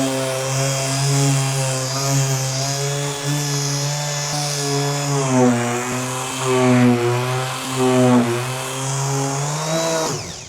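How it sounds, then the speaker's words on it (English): A power sander works over a brown wooden dining table outdoors, a loud continuous motor whine with shifting pitch as it is pushed back and forth, running alone for the whole stretch. "So I'm sanding this brown table down"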